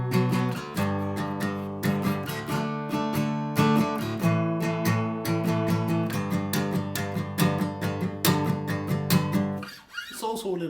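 Strummed acoustic guitar plays the closing bars of a song's chorus, steady driving eighth-note strums with accented chords, loud and close, ending with a brief ringing fade.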